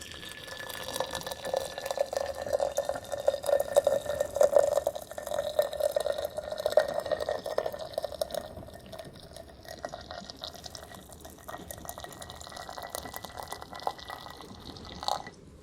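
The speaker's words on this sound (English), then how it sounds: "And then I'm just going to pour some water in here." Water poured into a teapot over a tea bag, shown as a steady trickling fill that runs close and fairly quiet for most of the span, then thins toward the end, with no talking.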